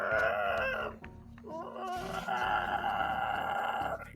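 A voice imitates the squawk of a bird-like creature fallen to a cavern floor, giving loud, rasping, drawn-out cries in a few bursts.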